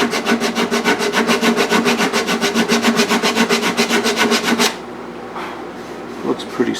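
Steady back-and-forth rasping of sandpaper on wood while shaping a guitar neck near the heel cap, close and even for about five strokes per second, then stopping to leave quiet room noise.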